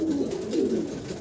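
A Koka pigeon coos in one steady, close, low rolling call that lasts throughout, with no other sound over it.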